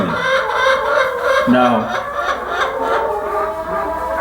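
A broody hen in a backyard flock makes low, continuous murmuring clucks close by, with a voice speaking briefly over the sound.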